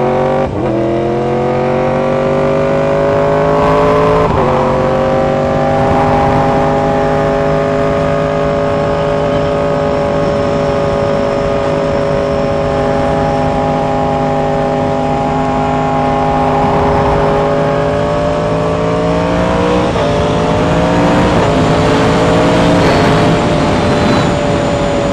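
A 2016 Suzuki GSX-S1000 sport motorcycle ridden on the road with cold tires, its engine droning loud and close with rising and falling pitch through gear changes and throttle shifts, no talking.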